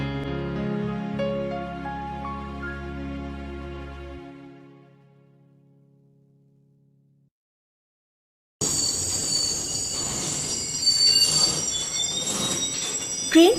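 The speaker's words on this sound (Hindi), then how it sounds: "ट्रेन ठहरी सी मालूम पड़ रही है।" Radio-play train sound effect: a tonal horn-like hum fades into near silence, then a loud rumbling train with squealing wheels and metallic screeches bursts in and runs on.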